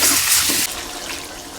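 Water pours in a steady, rushing stream into a cooking pot to boil gati taro for a silver carp curry in a village kitchen. It starts loud and drops slightly partway through, with no talking.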